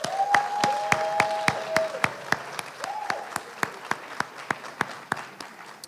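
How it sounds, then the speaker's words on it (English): Scattered, sparse hand claps from a small audience at a Limestone University academic awards ceremony, sharp individual claps falling in a loose, fairly even rhythm that thins out toward the end, with faint tones underneath. "Let's give a big final round of applause for tonight's award recipients."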